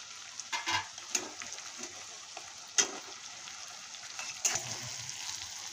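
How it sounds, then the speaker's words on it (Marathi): Satari onion-garlic masala fries with tomato and turmeric in a pan for a Bombil chutney, a quiet continuous sizzle broken by a few sharp scrapes and taps of a stirring spoon. "हे मसाला चांगला भाजून घेतलेला आहे"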